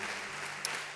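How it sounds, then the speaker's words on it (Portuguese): Applause from a church congregation, a steady broad wash of clapping throughout a short moment, moderately loud and continuous with no voices. "Dê uma salva de palmas ao teu Deus"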